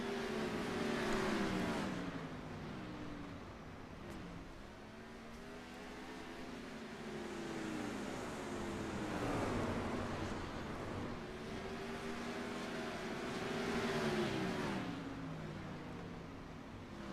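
Race cars lapping a paved sprint track in the iRacing game, engines rising and falling in repeated sweeping revs as cars pass through turns, steady and moderately loud with no voices.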